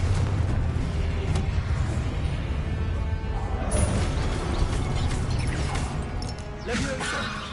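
Blasting-spell explosions in a Hogwarts wizarding video game: a dense, loud barrage of crashing booms and rumbling impacts that overlap continuously with no pause.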